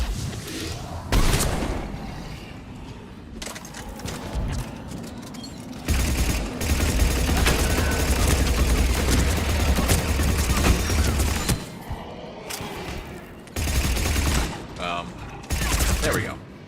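Gunfire in Mass Effect 3 rattles in long, dense fusillades with heavy booms, swelling and dropping in loud stretches across the fight, with a voice talking in places.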